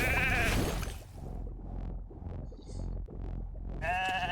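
Sheep bleats from polymorphed characters in the Raid: Shadow Legends live arena, a wavering bleat at the start and another near the end, with quieter game effects and chimes between them.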